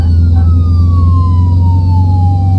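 An emergency vehicle siren wails loudly in the video game Flashing Lights, a single falling tone over a heavy engine drone, close and continuous with no talk.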